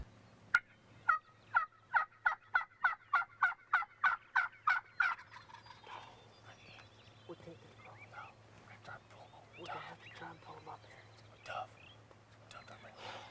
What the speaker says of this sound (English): they knew exactly how to set up on the gobbling birds